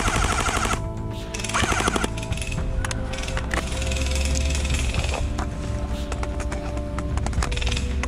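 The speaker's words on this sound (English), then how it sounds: "something is still shooting the vehicle" Airsoft guns fire at a vehicle during a Berget 18 milsim game in Sweden, rapid bursts of loud full-auto shots layered over one another, with faint talk underneath.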